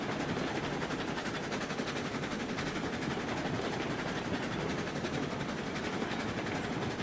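A train rolls along laid track in the RailRoads Online railway game, a steady dense rumble with rhythmic wheel clatter holding at an even loudness throughout.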